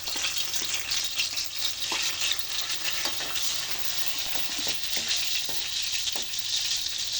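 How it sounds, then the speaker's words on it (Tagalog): Oil crackles and fries in a hot wok while adobong kangkong is being cooked. A dense, bright sizzle runs steadily and up close, with occasional louder pops and stirring clatter. "Ayan, mainit na yung ating kawali. So, lagyan na natin ng mantika."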